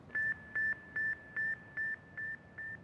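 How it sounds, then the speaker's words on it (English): Seven evenly spaced electronic beeps from the Sputnik 1 satellite radio signal, each a short pure tone like a chirp, repeating in a steady rhythm and gradually fading slightly in loudness. "I could hear this little chirping sound, more like a cricket chirping than it was a beep"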